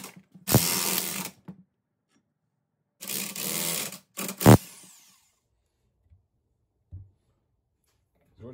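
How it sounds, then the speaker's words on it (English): A U-joint being pressed out of a Jeep axle yoke with a press: loud, harsh mechanical grinding bursts and a sharp crack, separated by silences, close by. "now we can begin by pressing the U-joint one direction"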